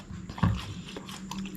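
A single crisp bite into a firm, crunchy, not fully ripe guava, one sharp crunch followed by brief chewing, close to the mic in a quiet room.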